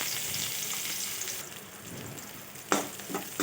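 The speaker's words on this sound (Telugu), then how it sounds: "ఆయిల్ వేడయ్యాక మనం కట్ చేసుకునే ఉల్లిగడ్డ ముక్కల్ని వేసుకోవాలి" Chopped onion pieces sizzle in hot oil in a pan, with a steady frying hiss throughout and a sharper crackle burst near the end, no talking.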